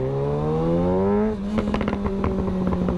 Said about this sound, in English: you can actually hear like a little bit of afterburn